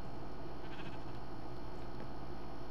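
Minecraft sheep bleating in a steady, continuous stretch over a dense game background, with no talk.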